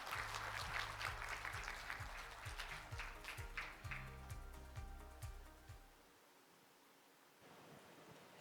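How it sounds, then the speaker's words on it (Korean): A conference audience at a low-birth-rate awards ceremony claps together, a dense burst of applause with a rhythmic beat running through it, fading out near the end as the room goes quiet. "여러분 큰 박수 부탁드립니다"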